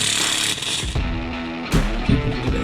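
Socket and wrench working on bolts of a 2014 Chevy Cruze during a repair, close metallic clanks and ratcheting scrapes in short uneven bursts.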